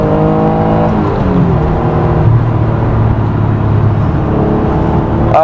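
Acura NSX engine accelerating hard, a loud close-up interior drone with harmonic tones that climb and shift through the revs, continuous with no talking.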